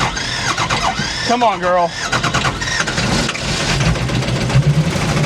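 A Ford Mustang fitted with a Powerstroke diesel engine cranks and tries to start with a loud squeal and a rhythmic churning. The engine is close by and heard under excited talking.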